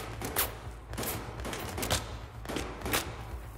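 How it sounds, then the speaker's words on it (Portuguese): Gunfire in the video game Battlefield 4, a series of quick sharp shot bursts at a loose, irregular pace, heard at moderate distance over low background rumble. "Quem tá atirando,"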